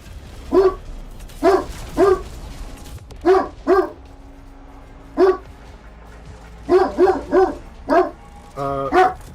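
Dogs barking indoors close by, a dozen or so sharp barks in short bursts and pairs with gaps between, ending in a longer whining yelp, loud over a quiet room.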